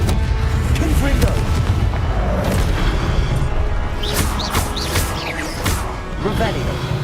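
Depulso and Confringo spells cast in the Hogwarts Legacy video game on Switch 2, a run of heavy booming impacts and crashing blasts with sharp magical zaps, loud and close, mixed with game sound effects.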